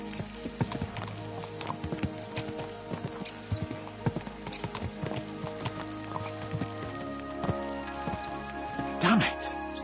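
Horses' hooves clip-clop along at pace in the Kingdom Come Deliverance 2 video game, with a busy, irregular beat of hoof strikes and a short neigh near the end, partly under a voice.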